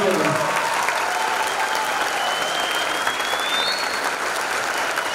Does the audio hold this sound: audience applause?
yes